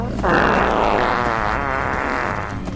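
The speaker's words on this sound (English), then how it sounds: "Cows fart all day." A long, loud, wet fart sound from a cow in Fallout 4 rumbles continuously for nearly three seconds, buzzy and fluttering, with a game-like synthetic quality.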